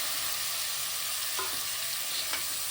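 Chopped tomatoes sizzle and fry in a pan for mushroom biryani, a steady loud hiss with a few stirring scrapes, no voices.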